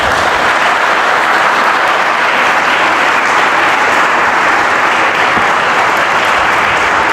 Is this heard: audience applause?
yes